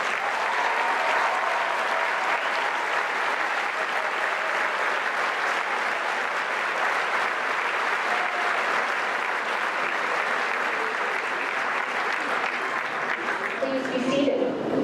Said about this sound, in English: Please stand and receive our applause for excellence in the arts.